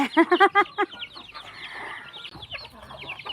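Chickens in a village coop cluck in a quick burst of several loud calls up close, followed by softer clucks and chirps over a low farmyard background.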